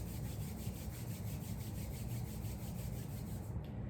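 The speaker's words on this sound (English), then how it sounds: "Bringing your hands to heart center, rubbing them together, creating some friction." Palms rub briskly together in a steady back-and-forth swish, close and soft, a continuous friction texture with a faint regular pulse and no talking.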